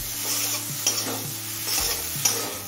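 Taro stolons (kochur loti) with spices being sautéed in a pan: close, steady sizzling with repeated spatula scrapes and knocks at an uneven rhythm, no talking.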